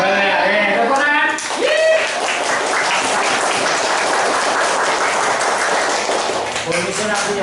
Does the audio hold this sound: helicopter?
no